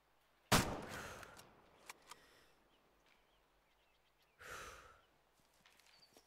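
In the hunting video game Way of the Hunter, a single sharp rifle shot at 150 meters cracks out and rings off, followed by quiet, then a softer rushing burst a few seconds later.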